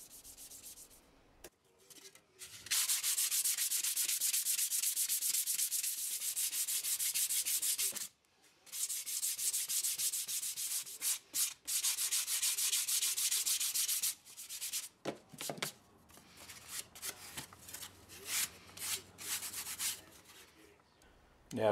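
XPS foam is sanded into an airfoil-shaped rudder for a three-channel trainer model plane, loud close continuous rasping strokes in long sustained bursts with brief pauses, then shorter choppier passes toward the end.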